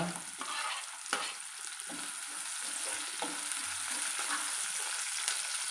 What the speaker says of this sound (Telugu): ఆనియన్ వేసుకుంటున్నాను పచ్చిమిర్చి క్యారెట్ బంగాళదుంప